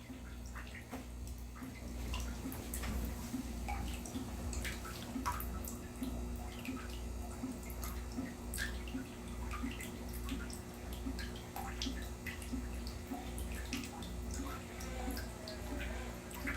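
Water running into a bathtub holding small animal habitats, a steady close rush with scattered drips and splashes and a faint pulsing hum underneath, continuing unbroken throughout.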